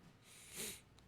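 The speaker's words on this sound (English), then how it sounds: "Again, sorry about the sniffling." A single short sniffle through the nose, quiet and close, one breathy burst with no speech.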